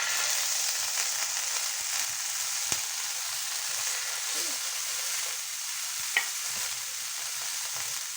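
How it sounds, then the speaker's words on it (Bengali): Bread with yogurt spread on one side, frying in hot oil in a pan, a steady close hiss and crackle throughout with a couple of small clicks from the utensil. "ফ্রাই করবো এবার। তেলটা গরম, আমি তেল দিয়ে করছি।"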